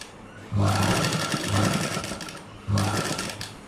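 A sewing machine stitches blouse fabric in close, loud bursts: one run of whirring needle action, a brief pause, then a second run, with no one talking.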